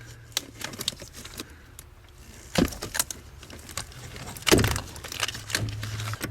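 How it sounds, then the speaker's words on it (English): Plastic electrical connectors being unplugged from an Acura Vigor fuse box under the dash: scattered clicks and sharp snaps, with two louder pops near the middle and end over a low background hum. "And now I'll just unplug all the connections"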